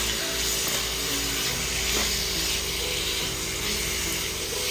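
Nearly a kilogram of chicken thigh fillet sizzles in a pan for Bicol Express, a loud, dense and continuous frying hiss up close, with no talking.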